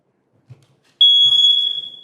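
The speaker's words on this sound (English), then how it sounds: "I'm going to check this smoke detector." A ceiling smoke detector is tested, letting out one loud, steady high-pitched electronic beep that holds for about a second after a brief click and a few faint sounds.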